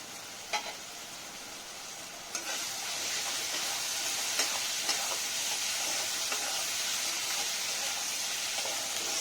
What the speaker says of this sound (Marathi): चांगली परतवून घ्यायची आपण ही फोडणी.